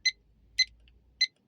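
Three short, evenly spaced electronic beeps from the timer of a fast-boil camping kettle, clear and isolated against near silence.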